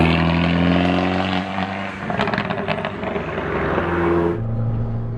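A Fiat 500 Abarth engine pulls hard under turbo boost, its droning note climbing through gears with a brief rough burst mid-way, then dropping to a lower, steadier hum, recorded from inside the car.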